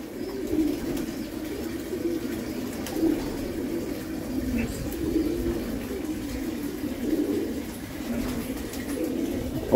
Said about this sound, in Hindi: हसीन हसीन कबूतर है माशाल्लाह इसके अंदर